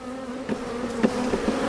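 Honeybees buzzing around an open hive box during a brood box inspection, a steady close hum with a few louder passes of individual bees swelling and fading over it; no talking.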